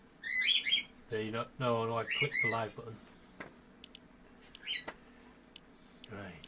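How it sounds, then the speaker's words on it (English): Birds chirp faintly in the background in several short bursts while someone talks over them, with the livestream's quiet room noise underneath. "Apologise for the birds in the background."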